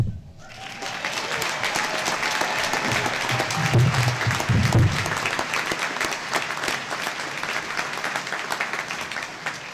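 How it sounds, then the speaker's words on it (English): A graduation-ceremony audience gives the Del Monte Brass a final round of applause, a dense sustained clapping that fills the hall for about ten seconds, fading slightly toward the end. "One last round of applause for the Del Monte Brass."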